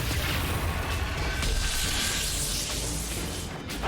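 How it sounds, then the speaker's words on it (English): Fireball explosions from a dragon in the fantasy game Dragon Age Inquisition, a dense, continuous roaring blast with booming low rumble that stays loud throughout, no voices over it. "there's a fireball! Everyone avoid the fireballs."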